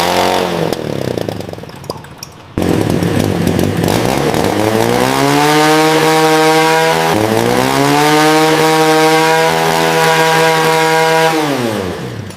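An old moped engine in a school auto shop revved hard at full throttle, a loud buzzing two-stroke whine that kicks in abruptly, rises and dips in pitch through repeated revs, then winds down.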